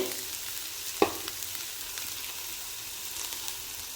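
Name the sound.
horse gram added to pan and stirred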